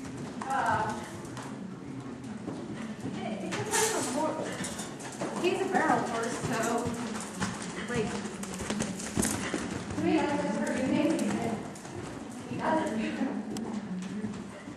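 Horse hooves clip-clopping rhythmically on dirt during bridleless barrel horse riding, steady repeated beats at a moderate distance, with people talking over them throughout.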